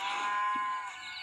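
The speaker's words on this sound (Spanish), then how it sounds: "¡Vaca! ¡Sal de mi camino!" A cow lets out a single long, loud moo with a droning tone in the egg-escape video game Chicken Pox, heard up close with no talking.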